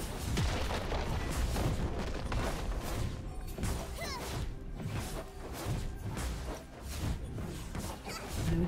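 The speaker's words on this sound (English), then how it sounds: "Red team's turret has been destroyed." A turret is destroyed in League of Legends during a mid-lane Annie versus Ahri match. Loud, dense game-battle audio runs throughout, with overlapping crashes, booms and whooshes and no pause.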